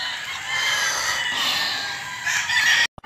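A Sweater gamecock rooster at a gamefowl farm crows one long, loud, close call lasting nearly three seconds before it cuts off abruptly.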